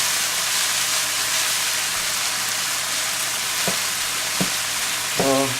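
Onions, peas, carrots and green onions frying with chicken for fried rice, making a loud, dense, steady sizzle with a few brief clinks near the end.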